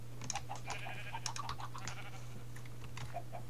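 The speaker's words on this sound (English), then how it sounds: "One at a time, fellas, one at a time. There you go, black sheep. Now gray sheep." Sheep in a modded Minecraft game bleat in quick repeated calls, several short overlapping cries over a steady low hum and faint keyboard clicks, with no talking.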